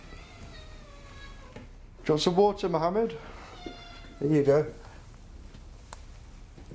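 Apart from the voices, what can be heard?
cat meowing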